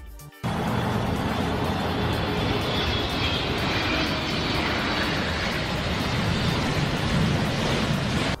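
A large airplane makes a hard landing, heard as a loud continuous roar of jet engines and rushing noise that holds steady for about eight seconds and then cuts off.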